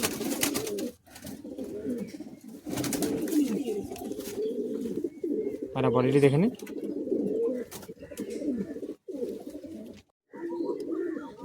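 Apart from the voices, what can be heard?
pigeons cooing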